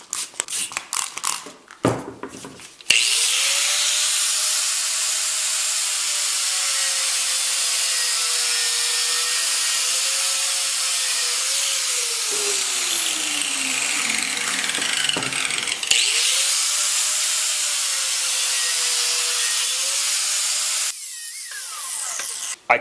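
A cutting disc grinds steadily through a rubber tire for about twenty seconds, a loud continuous abrasive whine that shifts pitch as the cut progresses, with brief clatter at the start and end.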